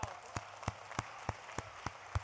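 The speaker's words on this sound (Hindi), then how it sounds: "एक बार अच्छे से ताली बजा दीजिए" Slow, evenly spaced claps, about eight sharp hits, ring out over a faint hiss as an audience responds at a Ram poetry recitation; the sound is thin and the clapping is unhurried.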